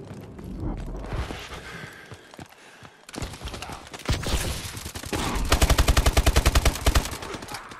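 Gunfire from the video game Call of Duty Advanced Warfare: scattered shots and impacts, then a long rapid automatic burst of evenly spaced loud cracks near the end, with busy game noise and no speech.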